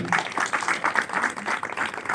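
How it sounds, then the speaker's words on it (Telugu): Applause for director Harish at a Telugu film teaser launch event, a crowd clapping steadily and loudly in a dense, continuous patter throughout. "ఒక్కసారి క్లాప్స్"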